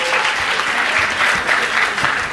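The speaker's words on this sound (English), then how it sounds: "Big round of applause." A crowd in a conference hall at a developer tech event gives a short burst of steady, dense clapping, close and loud, lasting a couple of seconds.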